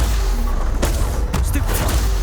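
Stupefy and Confringo spells striking in Hogwarts Legacy, a few sharp bursts spaced out over a steady game background with a voice present.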